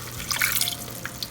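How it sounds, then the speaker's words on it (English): Water is poured into a tomato mixture cooking in a pan for chili paneer, giving a brief, close splashing and dripping trickle heard alone. "We will add just a bit of water so that the consistency of the tomato mixture will improve."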